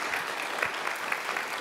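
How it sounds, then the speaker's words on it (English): Warm audience applause at an evening guitar event honoring visiting performers, a steady even patter of many hands clapping with a few sharper claps standing out, no talk over it. "Could we have a warm applause to them?"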